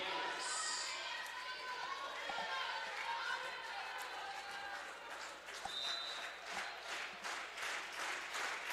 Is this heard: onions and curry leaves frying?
no